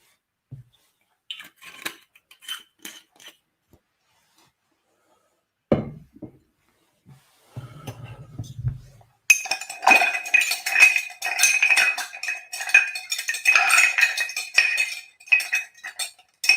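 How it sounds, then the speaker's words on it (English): A martini is stirred with ice in a glass, opening with scattered clinks and taps, then settling into a rapid, continuous metallic rattle of spoon and ice against glass that grows louder and busier. "You want to stir your martini for 20-30 seconds."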